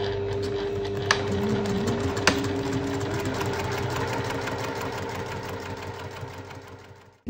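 A sewing machine stitching a French seam runs with a steady mechanical hum and rapid needle rhythm, close and continuous, with a couple of sharp clicks early on, fading out at the end.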